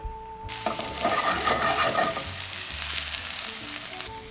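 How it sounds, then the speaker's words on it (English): Oil hitting a hot pan of tomatoes and a bay leaf, bursting into a loud, close sizzle after a brief quiet start and holding steady for several seconds, with faint tonal hum underneath. "We're gonna add a little bit of oil now."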